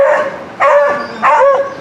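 Dogs barking close by, three loud sharp barks in an even rhythm about half a second apart, with no other sound between them.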